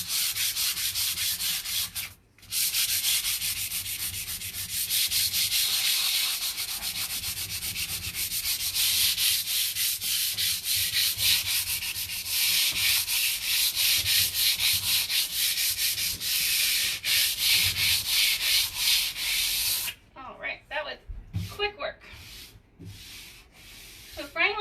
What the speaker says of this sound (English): I don't normally sand my first coats back